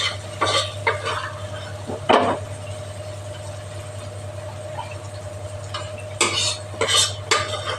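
Sambar spice mix stirred into vegetable khichuri in a very small pot, a spoon scraping and clinking against the metal in several short bursts over a steady low hum, with no talk.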